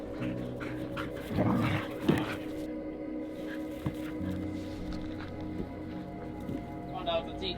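Dogs pant and whimper near a lake, with soft, intermittent whines and breathy huffs over a background hum and a few clunks.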